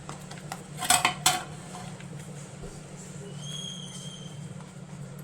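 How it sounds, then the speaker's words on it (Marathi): A spoon presses and levels warm besan barfi mixture in a dish, giving a few sharp metallic clinks and taps near the start, then a quieter hum of scraping, close by. "तर हे पहा मी चमच्याने अशी ही सेट करून घेते"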